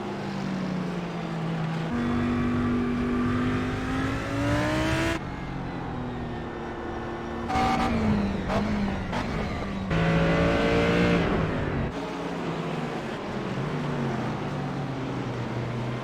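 GT3 race cars at Okayama International in a racing video game, several engines roaring and revving loudly together with rising and falling gear-shift whines and close passes, no talk.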